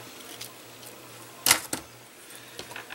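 Scissors snip through a rolled paper piece, one sharp crisp cut followed by a smaller second snip, close and alone against a quiet room hum.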